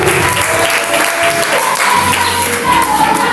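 Sunday church congregation applauding together in sustained, dense clapping that fills the room, with a faint voice or music tone underneath and no pauses.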